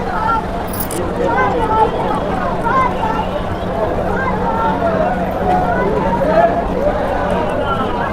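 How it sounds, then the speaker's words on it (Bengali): A large crowd of devotees packs the Baba Bhootnath temple on the last Monday of Shravan, filling the space with a continuous, close hubbub of many overlapping voices that never lets up. "প্রচুর ভিড়"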